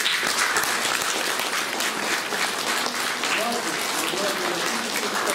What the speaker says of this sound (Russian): Слова благодарности под ваши аплодисменты нашим дорогим друзьям.